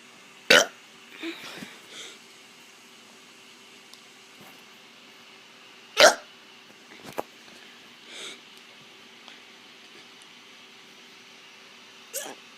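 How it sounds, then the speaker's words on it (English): A child gives a series of short, sharp burps separated by quiet pauses, close up against low background hiss, with a few softer throat sounds between them. "I'm going to be doing some burps."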